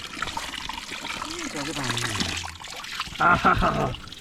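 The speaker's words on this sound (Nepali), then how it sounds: "सामरको चिसो पानी" Cold spring water trickles and splashes steadily at Samar, a continuous close wash of running water while voices talk over it.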